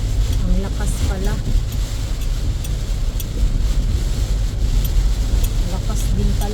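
Strong typhoon wind roars and buffets around a small hut, a loud continuous rushing with gusty swells and low rumble, with someone talking intermittently over it.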